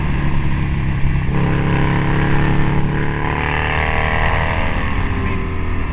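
A Harley-Davidson Screamin' Eagle factory Road Glide bagger pulls hard under way, its big V-twin giving a loud, steady, deep drone with rising pitch as it accelerates.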